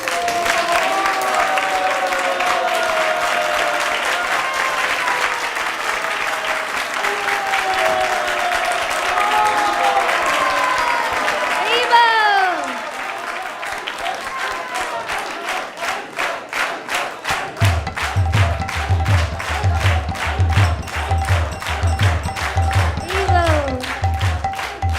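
An audience at ISKCON of Silicon Valley applauds after a reading and kirtan, with clapping throughout under a held chanted or sung line, and the claps turn into a fast, even rhythm in the second half.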